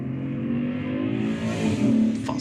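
A fossil-fuel car revs and accelerates loudly nearby, a steady rising engine drone with a harsh growl that swells toward the end.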